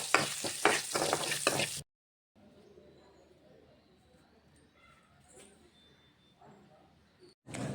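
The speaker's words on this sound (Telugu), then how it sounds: "ఆనియన్స్ పొడవుగా ముక్కలుగా కట్ చేసుకొని 2 నిమిషాలు ఫ్రై చేసుకొని" Long-sliced onions fry in a pan, heard as a faint, continuous sizzle with occasional soft stirring noises after a brief burst of louder sound at the start.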